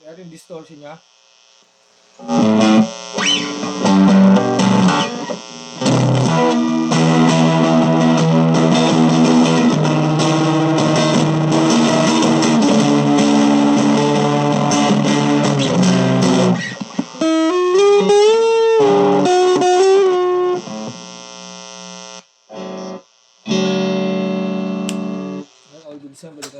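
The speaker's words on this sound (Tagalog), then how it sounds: "Kaya yung distortion niya." Electric guitar played through a distortion effect, a thick sustained chordal roar with shifting riffs that breaks into shorter bursts and pauses near the end.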